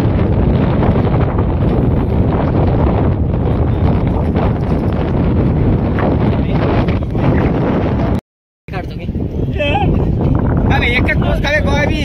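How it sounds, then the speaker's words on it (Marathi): Strong wind buffets the microphone at Hawa Point in Chikhaldhara, a loud, continuous rumbling roar that cuts out briefly near the end before gusting back in. "हवा पॉइंट हवा म्हणजे इथं हवा जास्त लागते म्हणते"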